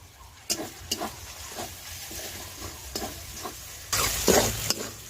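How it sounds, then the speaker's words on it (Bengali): Spices with cumin, coriander and Kashmiri chilli powder stir-fried in a pan for a jackfruit and prawn curry: steady sizzling under repeated scraping spatula strokes, with a louder stirring burst near the end, close and without voices. "সবকিছু মশলা 2 মিনিট কষিয়ে নেব"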